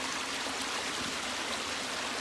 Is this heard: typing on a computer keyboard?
no